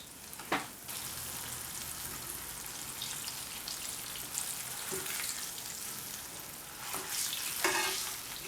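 Turkey halloumi burgers fry in hot oil in a pan, giving a close, continuous crackling sizzle with occasional sharper pops and spatters, no talking.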